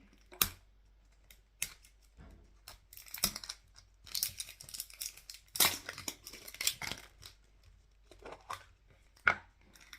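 A cheap plastic toy surprise ball is pried open up close, giving scattered sharp plastic clicks, snaps and crinkly rustles at low volume with no talking.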